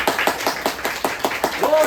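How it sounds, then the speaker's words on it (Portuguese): A church congregation claps together in a steady, rhythmic beat of about eight even claps, close and moderately loud, with a brief tonal sound near the end. "Uma salva de palmas para Jesus."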